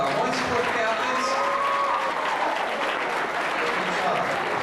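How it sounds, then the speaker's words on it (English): Applause for sport captains at a high school athletic awards banquet, a steady wash of clapping from a banquet-room crowd, even in level throughout, with faint voices mixed in underneath. "How about a nice round of applause for our one sport captains?"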